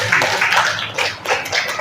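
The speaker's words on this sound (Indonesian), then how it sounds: "Jawabannya tepuk tangan." Classroom applause from a group of students, a short burst of scattered hand clapping in a room with no talking.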